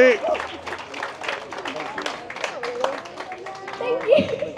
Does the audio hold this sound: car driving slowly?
no